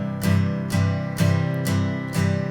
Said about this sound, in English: So the beginning, you might recognize on the album, is an acoustic guitar.